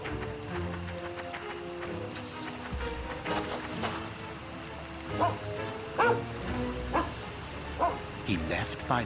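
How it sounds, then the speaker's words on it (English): Toby the dog barks sharply a few times, mostly in the second half, with yips and whimpers among the barks. Low talking sits underneath and there is some background clatter. "Good dog, Toby."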